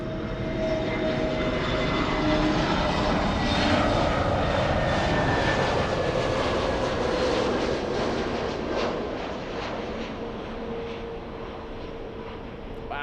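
A Frontier Airlines jet, the hummingbird-liveried Flower, flies in from DFW to LAX with a loud, sustained engine roar that slowly shifts in pitch as it passes, heard alone without voices.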